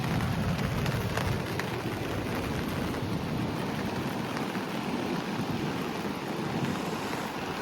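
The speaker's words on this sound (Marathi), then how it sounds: "थोडासा पाऊस पडतोय" Light rain falls along a coastal road, a steady broad wash of patter blended with wind rumble and distant surf, continuous and even throughout with no voices.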